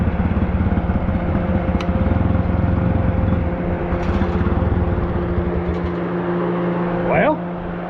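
A lawn mower engine runs after being choked, a steady loud close drone with a strong low hum and slight roughness. The pitch holds level and drops a little near the end.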